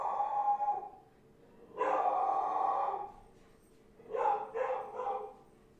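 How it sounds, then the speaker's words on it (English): A dog barks excitedly in a few bursts, one long bark early, another drawn-out bark, then a quick cluster of short barks, fairly close against a quiet room. "dog's acting like a rooster for some reason. I don't know why he's going crazy"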